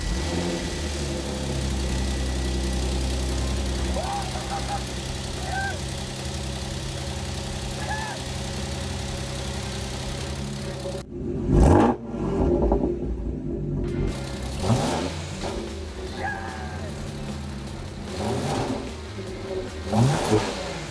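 An Audi S5 engine idles with a steady low rumble, then cuts out briefly before revving up in several rising surges, loud and close, with occasional voices.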